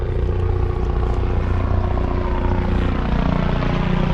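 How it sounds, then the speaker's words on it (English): Steady thudding rotor noise of a helicopter flying overhead near Sydney Harbour fills the clip, a continuous loud drone with no talk. "Where's the helicopter?"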